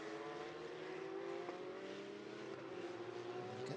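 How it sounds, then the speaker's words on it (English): Porsche and Ferrari GT race cars lapping the Hockenheim circuit during a GT Open Cup qualifying session, a steady distant engine drone with rising tonal whine, faint and continuous. "it's nice just hearing them back out on track at the moment"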